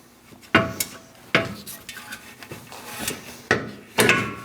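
A front bumper impact absorber is pulled free on a 2000-2006 Mini Cooper, giving a few sharp plastic knocks and scrapes spaced about a second apart, close by and fairly loud, with rustling between them.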